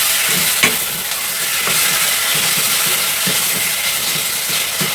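Ingredients for sinigang are sautéed in a pan, giving a loud, continuous sizzle with rhythmic stirring clatter and scraping throughout, close up and with no voices.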